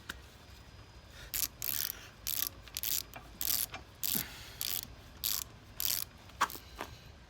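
Ratchet wrench clicking in repeated short bursts while tightening and torquing bolts on a 2019 Honda CB500X motorcycle, fitting Hepco & Becker tank protection bars; close, crisp bursts with brief pauses between.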